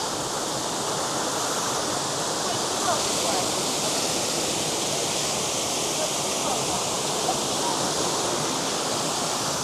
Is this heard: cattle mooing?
no